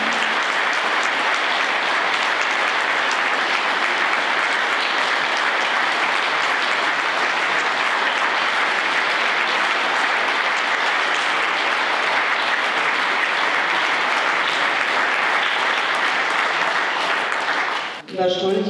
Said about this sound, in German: ich denke, das ist jetzt mal einen großen Applaus wert.